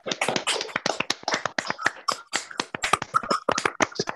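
Online participants at a poetry open mic clap after unmuting, producing sharp, irregular, closely packed hand claps that overlap unevenly, sounding near and slightly clipped, with no voices.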